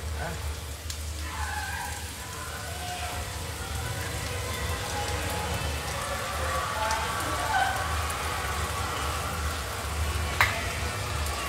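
Shrimp frying in oil in a pan, a steady close sizzle and crackle that runs throughout with faint clinks and a few sharper pops.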